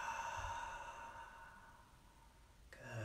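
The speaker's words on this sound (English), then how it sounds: "and exhale out the mouth." A slow, deep exhale out the mouth during a calm guided breathing meditation, soft and close, fading gently over a faint sustained musical tone in the background.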